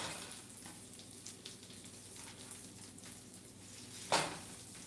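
Smashed potatoes fry in bacon grease in a pan with a soft, steady sizzle. A brief louder crackle breaks through near the end.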